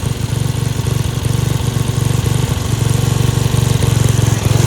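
A Dayton 11HP Hauler lawn tractor engine runs loud and close in 4th gear, a steady low chugging with a fast firing pulse that holds even throughout, with no voices.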